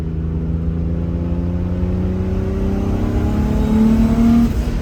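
A BMW E30 with a turbocharged M50 engine hums steadily at light throttle, then climbs in pitch as the turbo spools up, with a rising whine layered over the low rumble.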